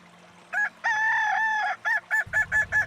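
A Kukuak Balenggek rooster from Solok, West Sumatra, crows up close: a long drawn-out call followed by a rapid run of short, melodious repeated notes, loud and clear.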